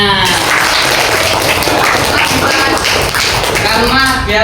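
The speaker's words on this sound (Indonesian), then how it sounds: "Tepuk tangan." Students in a classroom clapping hands together, a dense, steady round of applause lasting a few seconds, loud and close, with no voices over it.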